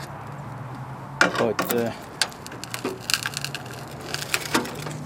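Metal trim being pried away from a Ford F100 truck fender with a screwdriver, giving sharp cracking, scraping snaps in uneven bursts, close and fairly loud, with a brief spoken phrase over a steady low hum.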